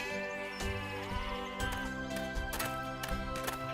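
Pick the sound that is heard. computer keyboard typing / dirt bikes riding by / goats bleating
goats bleating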